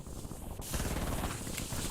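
Hip-fired gunfire in Warzone, a dense burst of rapid shots that kicks in partway through and continues loudly to the end over game ambience.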